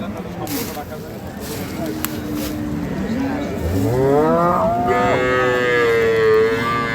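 A cow and her calf low repeatedly at a village cattle market selling improved-breed dairy cows, producing several drawn-out, rising and falling moos close by, with the calls overlapping near the end.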